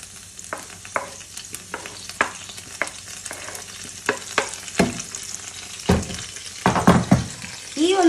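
Two medium onions, finely chopped, fry in a pan with green chilli, a steady sizzle broken by repeated clattering stirs and scrapes of a utensil, fairly close and alone without talk.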